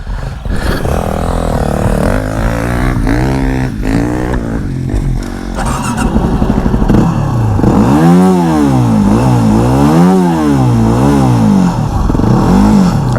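A Yamaha WR250R dirt bike revs off-road at Hollister Hills SVRA, loud and close. The engine roars in repeated rising and falling surges with rattling clatter.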